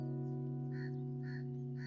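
Crows caw in an audio-story sound effect, with three short harsh calls evenly spaced over a steady droning hum.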